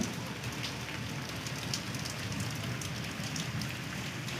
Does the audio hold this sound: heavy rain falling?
yes